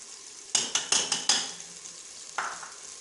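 Pounded ginger is stirred into mutton ojhri in a pan, producing five quick, sharp scraping clatters of a spoon against metal, a pause, then one softer scrape near the end.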